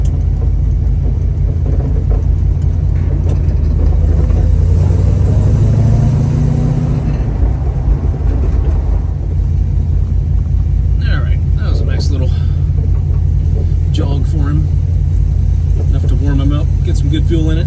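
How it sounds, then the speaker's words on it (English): A Plymouth Cuda engine runs steadily with a deep, continuous exhaust rumble, rising briefly as if revving, while a person talks over it. "Probably just hear exhaust"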